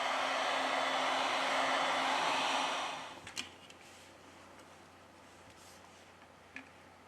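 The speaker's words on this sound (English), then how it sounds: "With the help of a heat gun, we apply 90 Celsius degrees during 4 minutes." A heat gun blows hot air at 90 degrees Celsius onto a Samsung S20 Plus phone, a loud steady rush for about three seconds that then cuts off, followed by a few faint ticks and clicks in a quiet room.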